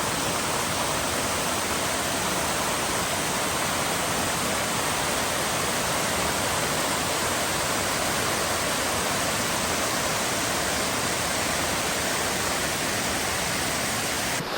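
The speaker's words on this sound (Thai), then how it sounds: "น้ำตกป่าหวายเป็นเชิงชั้นสวยงาม" Pa Wai waterfall, a tiered cascade in Tak province, Thailand, roars as a steady, unbroken rush of falling water, loud and constant throughout with no talking.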